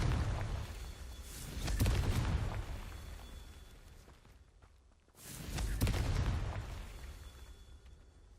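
Two heavy booming blasts from the Confringo fire spell in a Hogwarts video game, each swelling loudly with a rumbling tail before fading, a few seconds apart.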